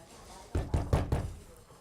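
Four firm knocks on a door land in quick, even succession, close and loud, during a building fire alarm evacuation, with a faint hum in the background.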